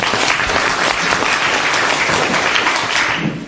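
Dense, steady applause from a seated audience fills the room at a Korean real estate finance industry seminar during guest introductions, loud and continuous before tapering off at the end.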